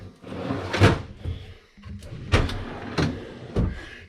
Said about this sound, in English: Look at these pull-out trays.